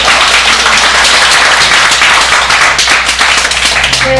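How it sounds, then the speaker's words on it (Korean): Loud, dense applause and clapping from an audience fill the whole stretch without pause, following a lecture at a brand forum and concert. "뜨거운 박수"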